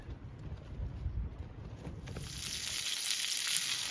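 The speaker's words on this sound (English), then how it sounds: "This is the steak nearly at the end of its cooking, and it looks amazing." A big piece of ribeye steak sizzles near its end of cooking at a wild campsite by a tarn, a steady hiss with outdoor wind noise that swells louder toward the end.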